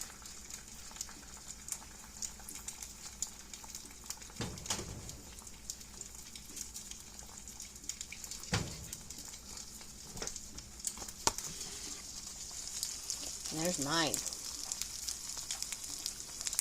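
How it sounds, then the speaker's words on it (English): Quiet, continuous crackle and sizzle of eggs frying slowly in a pan over medium-high heat, with a couple of knocks and a brief spoken remark partway through. "Nice and slow frying, medium high."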